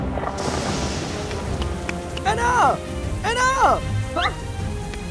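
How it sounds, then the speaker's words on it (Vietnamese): Heavy rain hissing steadily throughout a Gacha Club scene, a dense continuous wash that stays under a voice calling out twice. "Trời mưa to quá."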